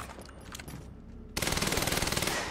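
An advanced SMG in the video game Quantum Break lets off a sustained rapid automatic burst, loud and evenly rhythmic, after a quieter stretch of faint game ambience and scattered clicks.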